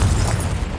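A Confringo spell explodes in Hogwarts Legacy, a loud, close burst of booming blast with a deep rumble, heard alone and short.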